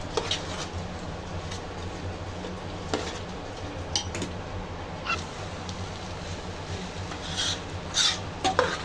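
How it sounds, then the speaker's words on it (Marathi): Basmati rice is being fried and stirred in masala, producing a continuous close scraping and rasping of a spoon against the pan, with occasional louder clinks and sizzles and no speech. "हे चांगलं फ्राय करायचं मसाल्यामध्ये."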